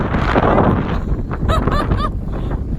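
Strong wind buffets the microphone in loud, continuous gusts, with a few faint chirpy sounds rising briefly near the end.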